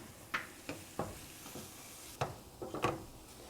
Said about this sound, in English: You can cook these onions for a good half hour if you'd like, and the flavor really comes through.